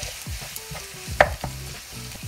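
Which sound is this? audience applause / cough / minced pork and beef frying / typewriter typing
minced pork and beef frying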